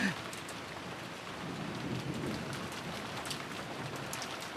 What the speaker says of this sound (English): listening to the wind and rain